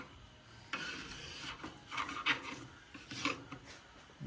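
A knife saws through a shark's belly flap in a series of faint, rasping strokes with soft scraping and rubbing, close and without talk.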